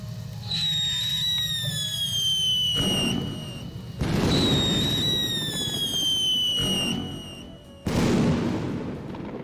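A firework cake in a video game fires repeated bursts: rising whistles ending in crackling booms that roll out, three volleys in quick succession, loud and close with no talk.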